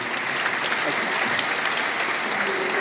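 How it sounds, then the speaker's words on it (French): A congregation at Catholic mass claps for parents, a loud, dense and steady applause filling the church throughout. "Peut-être les applaudir, hein, voilà."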